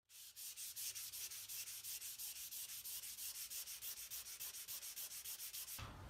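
Hand sanding of a wooden flag display case with 320-grit sandpaper: steady, close rhythmic rasping strokes at a quick even pace, continuous for several seconds with no talking.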